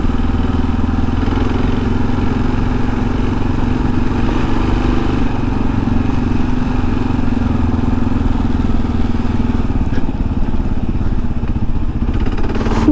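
A KLR650 motorcycle engine drones loud and steady at close range as the bike is ridden through sand, a constant rumble without pauses from start to finish.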